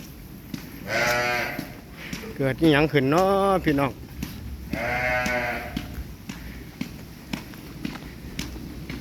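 Sheep on a farm in Israel give several loud, wavering bleats close by, spaced a second or two apart. Someone talks in between over a faint background of farm noise.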